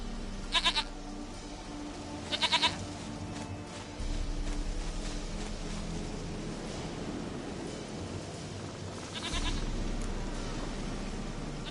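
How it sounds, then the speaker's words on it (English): A goat in the video game Witcher 3 bleats in short, sharp bursts, two close together near the start and another later, over a steady low ambient hum with no talking. "Goat of mine, dearest, sweetest goat."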